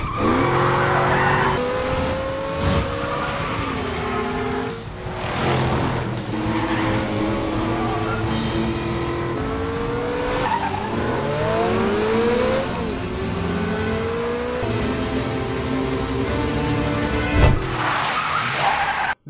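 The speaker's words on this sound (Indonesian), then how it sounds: "Aksi kejar-kejaran mobil ditampilkan di sini." Cars chasing each other at speed in an action-film pursuit, engines revving and shifting loudly while tires squeal and skid repeatedly, with sudden impacts, continuous and close throughout.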